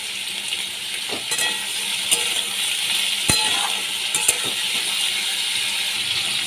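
Potatoes frying in a pan with salt and turmeric for a prawn and potato dish, giving a steady broadband sizzle with a few sharp scraping clicks of stirring throughout, fairly close and with no talking.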